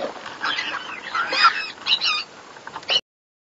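Pineapple conure parrots mating in their nest give a run of close, harsh squawks and chattering calls in uneven bursts, fairly loud, before cutting off abruptly near the end.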